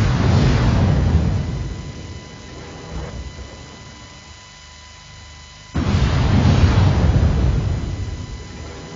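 Mech weapons firing and exploding in MechWarrior Online: two heavy, booming blasts with long rumbling decays, the second arriving after a quieter stretch of low hum, loud and close.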